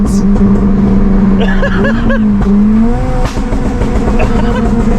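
A tuned Honda Civic FN2 Type R engine revs hard on a dyno, a loud, continuous high-pitched howl rising and settling with crackling pops from the exhaust, while people talk over it.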